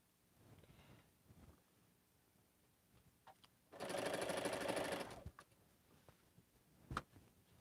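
A sewing machine runs a quilt's fabric pieces through in one steady loud burst of about a second and a half, set among quieter room noise and soft handling clicks before and after.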